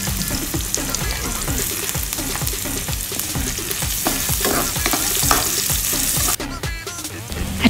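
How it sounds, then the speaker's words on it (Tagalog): Ginger fries in a pan for an adobo of chicken feet, a loud crackling sizzle under rapid, regular scraping strokes of a spatula, close and continuous until a short pause near the end. "Isunod ang luya at haluin ng bahagya."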